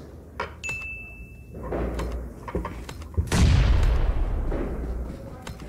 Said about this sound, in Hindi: टीम नंबर 1 की तरफ से फायरिंग,